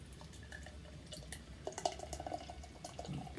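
Ise Kadoya Premium Kagura beer poured into a glass, a soft close trickle and drip of liquid, then faint fizzing as a thick head forms, without talk.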